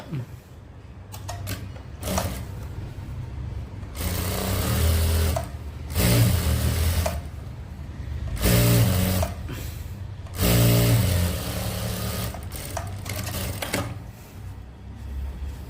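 A sewing machine stitches a men's shirt in several separate whirring runs of a few seconds each, with quiet handling in between.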